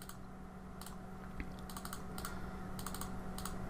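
Computer mouse clicks while working in SketchUp 3D modeling software: a handful of crisp, close clicks spaced irregularly over a steady low room hum.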